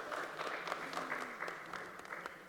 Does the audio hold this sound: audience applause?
yes